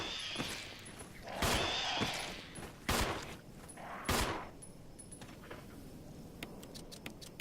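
Gunshots ring out in the Resident Evil HD Remake survival horror game, several sharp, loud shots spaced about a second apart, each followed by a short echoing tail, then softer clicks and small impacts as the firing stops.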